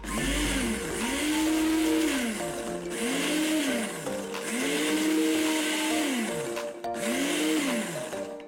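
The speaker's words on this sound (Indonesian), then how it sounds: "Kita blender lagi." An Oxone electric turbo blender grinds shallots, garlic and chili with a little water, its motor whine rising and falling in about five repeated pulsing cycles, loud and close with no talk.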